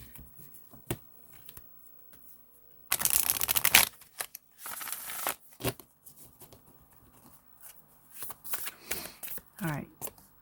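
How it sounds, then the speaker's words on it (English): Tarot cards are shuffled in two loud riffling bursts, each about a second long, with quieter card handling and taps between them. "so I'm going to give a shuffle."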